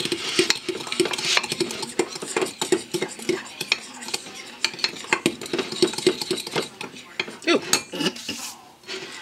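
Utensil stirring chocolate lava cake batter made from butter, milk, sugar, flour, cocoa, baking powder and salt in a cup, with rapid, repeated close scraping and clinking strokes throughout, no talking.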